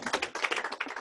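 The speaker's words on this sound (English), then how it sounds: "Let's give her a huge round of applause." A room full of people gives a presenter a burst of applause after a sizzle presentation at a training session, brisk and dense clapping that runs steadily at moderate level without pauses.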